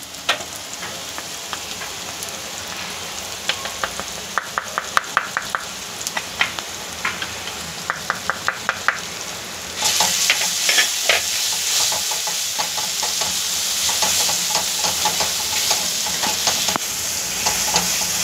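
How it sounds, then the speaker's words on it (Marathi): Masala spice mix with chilli powder, tomato, onion and garlic frying in a pan for dried shrimp (sukha javla), with steady sizzling and repeated scraping stir strokes; the sizzle grows louder and fuller halfway through. "हे पहा असं छानपैकी सगळं पसरवून हा मसाला आपण टाकलेला आहे त्याच्यामध्ये"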